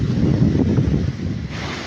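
Tsunami seawater surges back over the shore at Milbuk, Palimbang, Philippines, a rough churning wash of waves under heavy wind buffeting the microphone, brief and fairly close.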